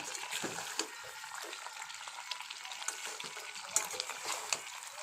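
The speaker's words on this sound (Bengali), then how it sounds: "অনেকক্ষণ ধরে মাংসটা কষলাম" Chicken meat sautés slowly in a pan, giving a soft, steady sizzle with scattered crackles and pops, faint and close, with no voices.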